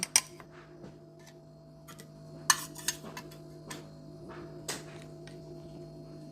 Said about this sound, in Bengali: একটা পাত্রে দই নিয়েছি, এই মশলাগুলো সব দিয়ে ভালো করে ফেটিয়ে নেব